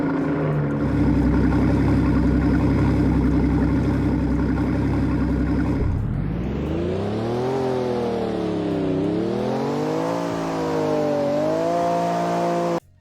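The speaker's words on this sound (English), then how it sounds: "there's startup noises, there's like idle noises" A car engine in the Roblox game Driving Empire idles with a steady, buzzy hum, then revs up and down in rising and falling sweeps before cutting off abruptly.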